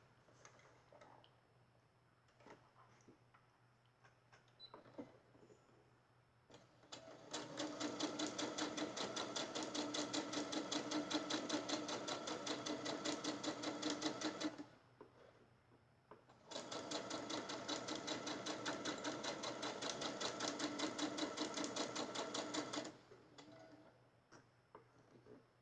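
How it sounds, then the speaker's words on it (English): A sewing machine runs a quarter-inch seam along charm squares in two long, steady bursts of rapid, even stitching, each lasting several seconds, with a pause between them and quiet handling noises before and after. "Now I'm going to take it and do a 1/4 inch seam down this one"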